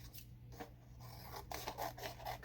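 Scissors or a blade cut away paper during bookbinding, a series of close, dry rasping strokes, some short and some longer, with faint gaps between them and no talking.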